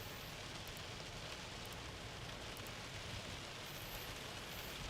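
Rain from a storm, with a little hail, pours steadily onto a car, a dense even hiss with faint scattered taps, continuous and fairly soft, with no talking.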